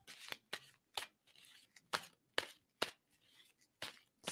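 Tarot cards being shuffled by hand, a quiet series of about ten crisp, papery riffling bursts at an uneven rhythm, close up with no talking.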